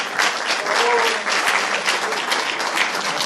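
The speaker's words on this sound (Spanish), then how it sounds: "Un aplauso muy fuerte para ella." Loud, dense applause from a talk audience in Agost, Alicante, welcoming a volunteer onto the stage, continuous throughout with a faint voice briefly audible beneath it.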